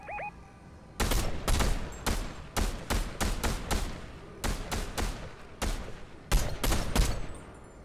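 Rapid bursts of gunfire in a Fortnite match, roughly a dozen loud, sharp shots in clustered volleys with short gaps between them, close and alone without talk.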